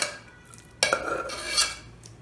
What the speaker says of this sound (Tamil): இப்போ நான் இது ஒரு பேனுக்கு மாற்றிக்கிறேன்